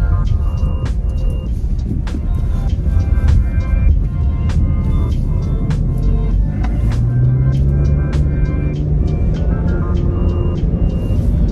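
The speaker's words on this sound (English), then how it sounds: "We're gonna make a U-turn right here." A 2024 Nissan Sentra SV makes a U-turn, its engine a low steady rumble inside the cabin, with rhythmic ticking clicks and a brief rising tone near the end.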